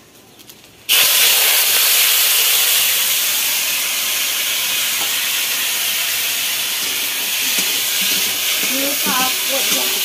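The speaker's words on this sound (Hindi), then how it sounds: "अब टमाटर डालने जा रहे हैं।" Tomatoes dropped into a hot wok set off a sudden loud burst of hissing sizzle that stays steady and close, with a brief faint voice near the end.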